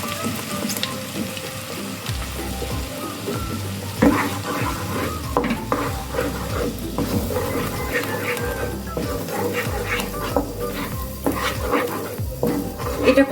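Spinach with cooked onion, garlic and ginger paste sizzling in a pan while a spoon stirs and scrapes steadily, with clinks against the metal throughout, close and fairly loud.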